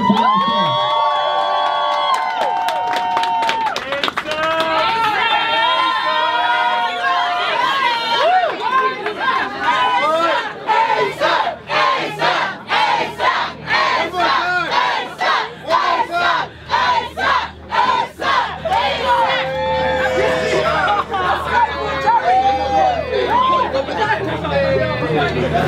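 A crowd at a live rap concert in New York screams and cheers loudly and continuously, a dense roar of voices with shrill yells rising and falling throughout.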